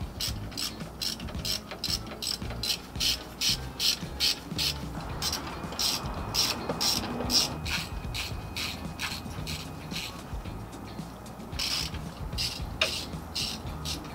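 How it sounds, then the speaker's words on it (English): A ratchet wrench tightens the 12 mm bolts holding down the rear brake line on a Toyota Tacoma, giving rapid close clicking bursts in steady rhythmic strokes. "we can also install the bolts that hold that brake line down"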